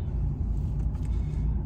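A truck pulls away from an empty industrial zone to start driving, a deep, steady engine rumble heard from inside the cab, continuous and fairly loud.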